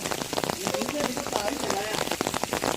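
Heavy rain patters steadily on a freshly poured concrete road, close and dense, with voices faintly beneath.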